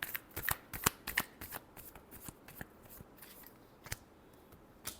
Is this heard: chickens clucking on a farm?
no